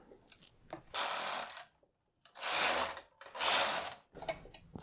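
Knitting machine working a row of a hat: three loud sweeping carriage passes, each a whooshing, clattering rasp lasting about a second, with quiet clicks and pauses between them.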